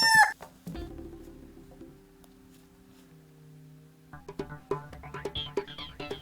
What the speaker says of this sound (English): We better see about those chickens